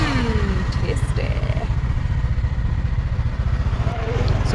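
A motorcycle engine drones steadily from a passenger riding on the back of the bike along roads near Battambang, Cambodia, with a buffeting wind rumble and a couple of faint revs rising over it.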